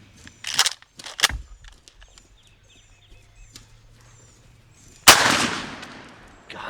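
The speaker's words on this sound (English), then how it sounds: "Stand up and shoot him." A single sharp, loud gunshot blast rings out outdoors during a turkey hunt, preceded by a few scattered knocks and faint birdsong.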